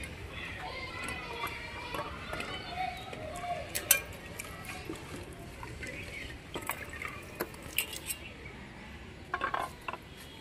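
Hog plums (amra) are washed in water in a kitchen bowl, with quiet splashing and sloshing and a few light knocks and clinks of fruit against the container, low and intermittent.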